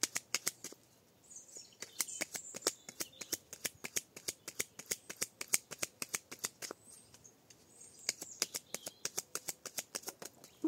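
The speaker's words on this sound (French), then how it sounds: "On va faire une coupe avec le Béline." A deck of Belline oracle cards is cut and handled, producing a long run of quick, crisp card flicks and riffling snaps in an uneven rhythm, close but faint.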